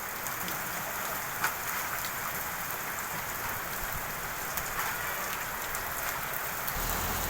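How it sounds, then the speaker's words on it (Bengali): Rain falling in a late afternoon shower, a dense, even hiss of drops spread all around with occasional sharper nearby patters, steady and moderately loud throughout, no voices. "দেখতে পাচ্ছেন বৃষ্টি"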